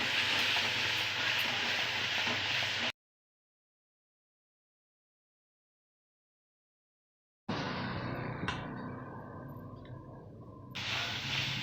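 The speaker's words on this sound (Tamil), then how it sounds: "எண்ணெய் ஊற்றி பொரிச்சு எடுத்துடலாம் பூரியை" Puri frying in hot oil in a kadai, a steady loud sizzle and hiss that cuts out abruptly, then returns with a quieter, settling bubbling.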